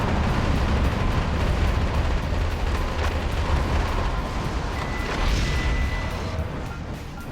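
Missile launcher explosions roar through Metal Wolf Chaos XD, a dense, continuous rumble of blasts and debris that stays loud and heavy throughout, with no distinct gaps between impacts.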